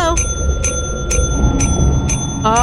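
Bell rung repeatedly in the video game Lethal Company, about five bright clanging strikes at a steady pace with ringing overtones, over a low rumbling background with faint voices.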